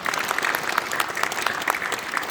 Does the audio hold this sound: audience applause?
yes